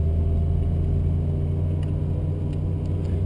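A Ferrari F458 Italia engine held at light throttle during a track driving session, giving a steady, continuous low rumble with no big revs, close and fairly loud.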